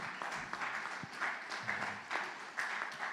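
A church congregation applauds, a quiet, steady patter of many hands clapping in uneven bursts, with faint voices mixed in.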